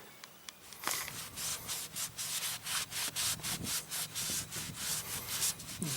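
A rag rubs an RV roof clean with mineral spirits around the ladder and corner: rhythmic back-and-forth scrubbing strokes, close and fairly loud, about a dozen even swipes with no voices.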